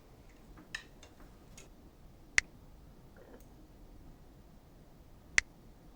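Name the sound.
metronome clicking on beats 2 and 4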